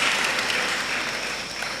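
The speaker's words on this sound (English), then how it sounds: "let's give another round of applause to Dr. Aristis Hago and his team of performers" Steady, dense applause from a lecture audience honouring a team of performers, loud and continuous with no pauses throughout.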